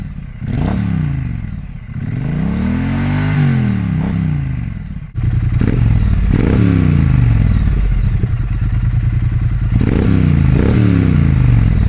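A Triumph Street Twin motorcycle on its stock exhaust, close and loud, blipped through repeated revs that rise and fall, the first few spaced apart and then a steadier run of rhythmic throttle surges over a rumbling idle.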